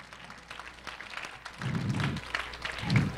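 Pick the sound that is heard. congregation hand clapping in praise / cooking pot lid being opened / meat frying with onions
congregation hand clapping in praise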